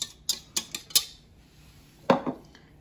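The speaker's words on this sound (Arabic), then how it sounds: "إذا نحركو هادو كامل، نخلطوهم كامل" A utensil clinks repeatedly against a bowl while baba batter of eggs, oil and sugar is mixed, giving several sharp taps close by, then a pause and a final pair of knocks.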